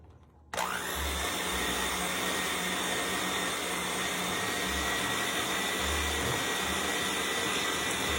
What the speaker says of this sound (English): we're going to use our mixer and we're going to give this a mix until creamy